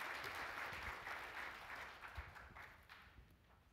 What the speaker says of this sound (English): Would you please just join me in a round of applause for Peter, Laura, and Carl.